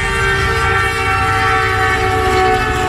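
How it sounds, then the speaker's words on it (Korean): A train rolls past outdoors on a street in Pakistan, a loud steady rumble with sustained horn tones held throughout, close by and with no talking over it. "Oh, 기차다."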